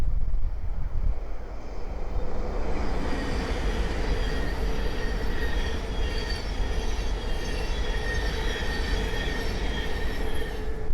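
A Thameslink Class 700 train passes on the East Coast Main Line at Great Wymondley: a loud, sustained rushing roar of wheels on rail with high squealing tones, close by and steady, no voices.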